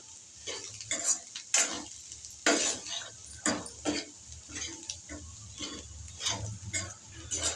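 A spoon scraping and stirring beetroot fry in a pan, giving repeated irregular scrapes and clinks over a faint steady sizzle, fairly close and with no talking.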